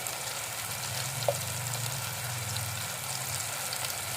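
Spice powder frying in hot oil for a Konkani cashew usal, a close, even hiss of sizzling with a faint low hum beneath and a single small click.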